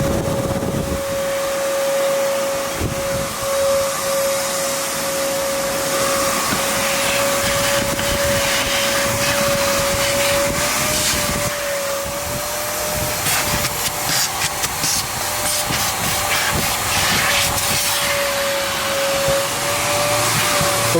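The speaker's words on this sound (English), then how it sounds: "We're gonna go ahead and vacuum the seats" A vacuum cleaner runs continuously as car seats are vacuumed during a full interior detail, a loud steady whine with a fixed tone and shifting rushes and scrapes as the nozzle moves.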